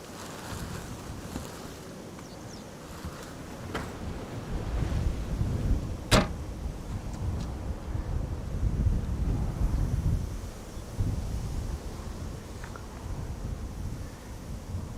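Gusty wind buffets an outdoor microphone beside the airport runway at Schiphol, a steady low rumble rising and falling throughout, with a brief sharp gust-like burst midway and no voices.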